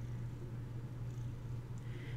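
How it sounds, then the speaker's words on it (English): A cat purrs close up in a continuous, low, rumbling drone that holds steady at a soft level throughout, with no other sounds. "I don't know if you can hear him purring."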